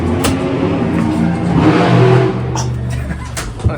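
A 1,500-horsepower methanol monster truck engine revving close by, a loud sustained roar that swells and eases, with voices faintly underneath.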